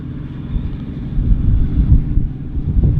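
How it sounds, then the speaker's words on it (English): Steady, blustery wind buffets the microphone on the shore of the Solway Firth, a continuous low roar that swells and eases without any voices. "It's a wee bit windy down here, but you expect that."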